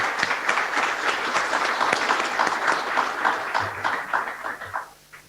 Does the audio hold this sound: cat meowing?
no